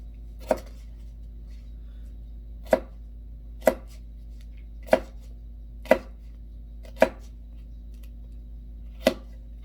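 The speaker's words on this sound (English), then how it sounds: "I'm going to cut very thin slices" A knife cuts a skin-on cucumber into very thin slices on a cutting board for an Israeli salad. Eight slow, evenly spaced crisp chops ring out close and clear against a quiet background.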